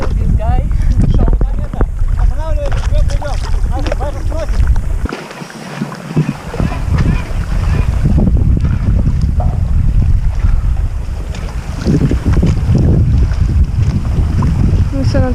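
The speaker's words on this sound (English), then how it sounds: "This is one of the most amazing things we do at Baikal Lake, paddleboarding." Paddleboarding on Lake Baikal, with steady water sloshing and heavy wind buffeting the microphone throughout, while people talk over it.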